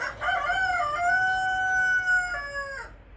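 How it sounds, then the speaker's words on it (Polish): A rooster crows once, a long rising and falling cock-a-doodle-doo, clear and fairly close, ending in quiet. "Czy to jebane kury tam"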